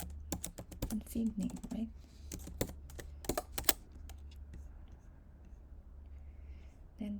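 Typing on a computer keyboard while configuring a Cisco router hostname in a networking lab: uneven bursts of close, crisp key clicks, with a person speaking quietly between them.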